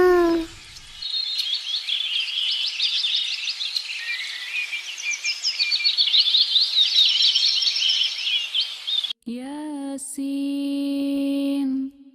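Sparrows chirping in a dense, bright twittering chorus that runs steadily for several seconds, followed by a sharp break and a few sustained electronic-sounding tones at the end.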